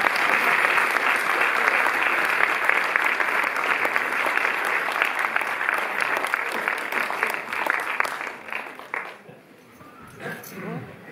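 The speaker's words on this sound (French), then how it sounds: "On applaudit Stella." A cinema audience at the Cinémathèque in Paris gives loud, dense applause for Stella at a film presentation. Many hands clap together in a full roar before it thins and fades away near the end.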